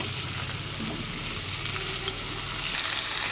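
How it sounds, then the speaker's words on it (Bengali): Potatoes and pointed gourd frying in oil left over from frying fish, giving a dense, even sizzle that runs steadily and close throughout with no voices. "এই তেলে আলু আর পটল ভেজে নেব"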